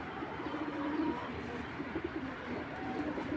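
Soft, repeated cooing from racing pigeons runs through the whole stretch, several low rolling calls at moderate distance over a constant background hum.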